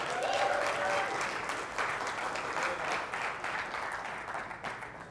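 A premiere audience applauds the cast and crew of an independent film. A full crowd claps steadily and fairly loudly throughout, with a faint whistle near the start and the clapping tapering slightly toward the end.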